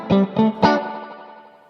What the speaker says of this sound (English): this is the Mercury edition, and this has a way cooler reverb.